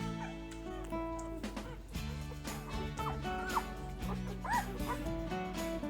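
Newborn puppies whimper and yip while nursing, high thin cries rising and falling repeatedly over background music.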